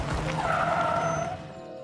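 A car brakes hard and its tires squeal into a skid, a loud sustained screech that fades as the vehicle comes to a stop, with no talking over it.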